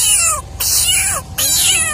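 A person mimics a cat, giving three loud, close, drawn-out meows in quick succession with brief gaps between them.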